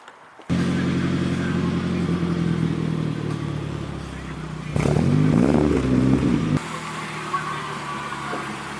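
A freshly restored Nissan 240sx engine fires up abruptly and runs with a loud, steady rumble, then briefly revs harder before settling, close by.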